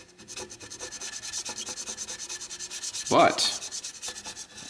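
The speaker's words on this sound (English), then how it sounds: "Let's see if I can scrape that off." Adhesive residue scraped off an acid-etched steel nameplate: a steady rasping scrape repeats close up, with one louder, harsher stroke near the end.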